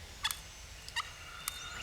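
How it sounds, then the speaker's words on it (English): A wild turkey gobbler in the Mississippi woods gives three short, faint gobbles, evenly spaced and distant, over quiet background. "Eventually, the gobbler goes silent,"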